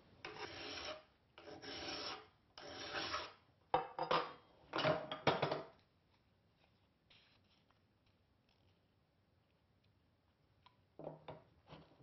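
A hand file rasps across the edge of a steel card scraper in a handful of firm, close strokes, then stops for a quiet pause before a few softer strokes return near the end.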